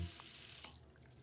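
A cartoon tap runs steadily into a sink, a quiet, even hiss of flowing water that continues alone for the whole second.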